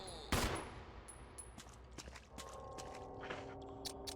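Handgun fire in the video game Resident Evil HD Remaster: one loud sharp shot at the start, then a string of lighter clicks and thuds under game ambience, with no talking.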